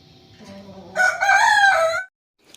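A farm rooster crows once, close and loud, in a single rising and falling call of about a second after a quieter lead-in, followed by silence.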